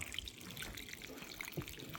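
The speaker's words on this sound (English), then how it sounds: "I got my watering can. I'm just gonna wet it up real good" Water from a watering can pours onto the soil of a freshly repotted agave plant sitting in a catch tray, a soft, steady trickle and splash heard close and fairly quietly.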